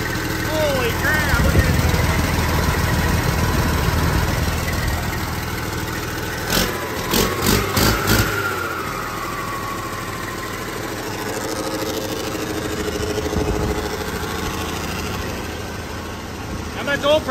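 A newly installed car engine runs at a steady idle close by after its first start, with a burst of rapid knocking midway and people talking excitedly over the rumble.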